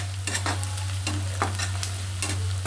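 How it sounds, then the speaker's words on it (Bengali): Bay leaf and black pepper frying in a hot pan while being stirred, with steady close sizzling and a series of scraping stirs at irregular intervals, and no talking. "এখন আমি ভালোভাবে নাড়াচাড়া করে দিব।"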